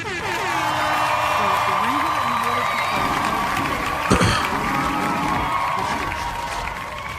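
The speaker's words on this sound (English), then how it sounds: "the crowd was just cheering all up in my ear" Crowd cheering during a Star Citizen livestream, a steady roar of whoops and shouts filling the whole stretch at close, loud level, with a sharp burst near the middle.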